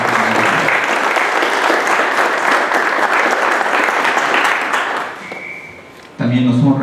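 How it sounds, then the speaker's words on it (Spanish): Applause for a speaker at the installation of a public security advisory committee, a loud sustained burst of clapping that fades out, followed by a voice starting to speak. "Demos un aplauso al licenciado."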